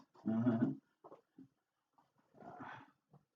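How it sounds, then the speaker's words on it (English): A dog whimpers indoors in a few short, faint whines separated by brief silences, with one longer whine near the start and another later on. "Dog."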